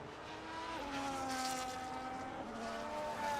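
A Ferrari Formula 1 car engine in a racing game at Monaco whines at high revs, its pitch rising and falling as it changes gear, heard steadily and fairly distant.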